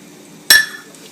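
A sharp metallic clink of a utensil against a pot while butter and flour are stirred into a light roux for Czech mushroom soup, one brief close knock with a short ringing tail, alone.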